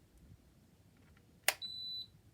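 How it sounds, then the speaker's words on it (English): An Igenix 30 inch tower fan gives a single electronic power-on beep when switched on, a short sharp click-like onset followed by a steady high tone lasting about half a second in an otherwise quiet room. "Now I'm going to be showing you the noises that they make when you turn them on"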